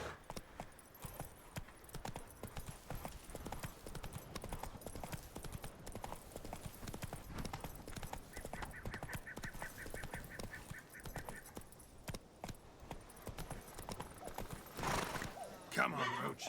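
Roach, Geralt's horse in The Witcher 3, gallops with steady rapid clip-clop hoofbeats under game music and ambience, with a whinny near the end.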